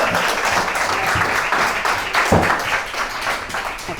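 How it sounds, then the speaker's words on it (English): A crowd applauds steadily, many hands clapping in a dense, continuous patter that carries on throughout. "you can give them a round of applause."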